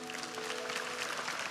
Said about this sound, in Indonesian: Kasih tepuk tangan tuh Tuhan.